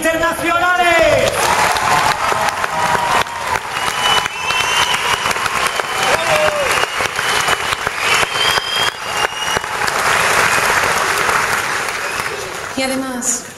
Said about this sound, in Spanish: Den un fuerte aplauso para el cuerpo de baile de PortAventura